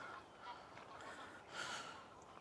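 Geese honk on a lake, faint and distant, in a couple of soft calls over quiet outdoor background noise.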